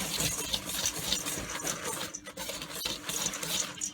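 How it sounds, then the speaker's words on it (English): A whisk clatters rhythmically through dry ingredients for pain d'épices in a bowl. The quick, steady scraping strokes are close and moderately quiet, with no voices. "I'm just going to whisk these together till they're all just evenly mixed and distributed"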